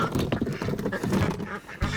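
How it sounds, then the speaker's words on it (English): Indian runner ducks quacking in a quick, dense burst of nasal calls, close by, as a flock used for herding practice with small dogs. "These are Indian runner ducks."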